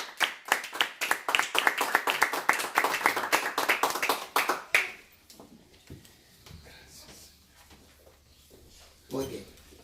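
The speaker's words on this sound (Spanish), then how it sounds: "Le damos una ofrenda de aplausos al Señor" A church congregation claps together in a warm burst of applause, a dense run of sharp, rhythmic claps lasting several seconds before fading, followed by quieter room sounds and a voice.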